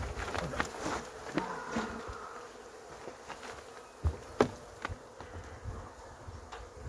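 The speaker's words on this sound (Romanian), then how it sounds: "Deci, noi mutăm acolo albină dintr-o ladă într-alta" Honeybees buzz in a close, steady drone while being moved from one hive box to another at minus three degrees in winter, with faint knocks and handling noises scattered through.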